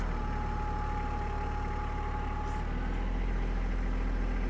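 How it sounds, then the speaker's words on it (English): A tractor engine idles nearby with a steady low rumble and mechanical hum, its tone shifting slightly partway through. "I'll go ahead and get the tractor and bring it up."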